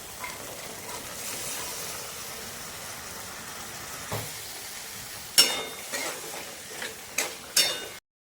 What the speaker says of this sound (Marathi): तर आपण ह्याच्यामध्ये मिक्स भाज्या ज्या आहेत ते ॲड करून घेऊयात